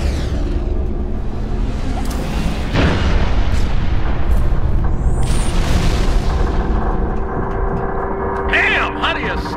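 An artillery barrage in Halo: Reach fires as an incoming Covenant corvette approaches, dense booming blasts and a thick continuous rumble, with a sharp impact partway through and game radio voices talking over the din.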